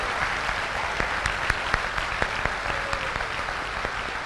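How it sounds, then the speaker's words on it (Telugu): Audience members at a brand-building training seminar give a round of applause, heard as a thin, scattered patter of individual sharp claps, somewhat distant and fairly quiet, with no voices over it. "చాలా ఎక్సలెంట్గా చప్పట్లు కొడుతున్నారు"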